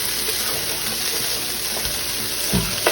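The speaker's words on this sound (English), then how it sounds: "All right, it's time to add the sausage. Give everything a stir." Sausage frying in a pan and being stirred for a breakfast dish: a steady close hiss of sizzling fat runs throughout, with a few soft scraping knocks from the stirring near the end.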